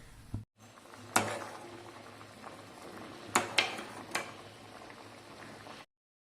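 Soaked chickpeas bubble quietly in a pot on the stove under a low, steady simmer, broken by a few sharp clinks of a utensil against the metal before the sound cuts off.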